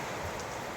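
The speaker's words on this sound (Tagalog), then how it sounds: "Ulan na. Ulan na." Steady rain falls outdoors on an overcast day, a dense even hiss of drops on surfaces that stays close and continuous through the short moment with no voices.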